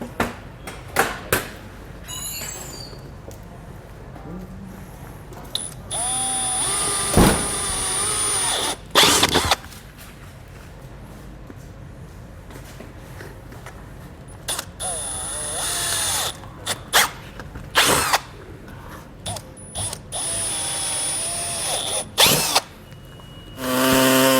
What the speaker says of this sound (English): We're just going to drill the corners